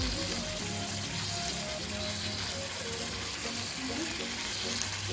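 Yogurt masala frying in a pan over a low gas flame, a steady, close sizzle with light stirring throughout and no talking.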